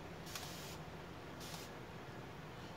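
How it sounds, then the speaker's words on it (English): Two short hissing bursts of spray paint hit a kitchen cabinet border being distressed, each lasting under half a second over a quiet room background. "And then I'm spraying it so that it starts dripping."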